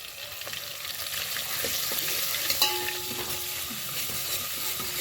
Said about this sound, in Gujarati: હવે જો મહારાજ મરચું નાખે છે દાળમાં આ સંભારમાં